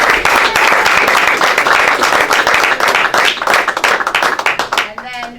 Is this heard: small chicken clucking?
no